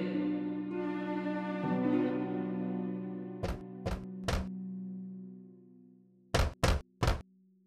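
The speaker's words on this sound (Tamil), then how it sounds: "பின்னர் குடிசைக்கு முன்னால் வந்து கதவை தட்டியது." In an animated story, a wolf knocks on a hut door: two sets of three sharp, hollow knocks, heard after sustained background music fades out.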